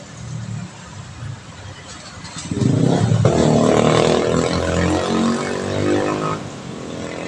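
A motorbike passes close by on a hot, congested asphalt road, its engine swelling from a low rumble into a loud, sustained roar midway, over steady traffic noise.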